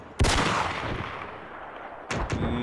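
Rifle fire and artillery blasts in a World War One shooter game, two sharp, loud booms about two seconds apart, each trailing off in a long rumbling echo.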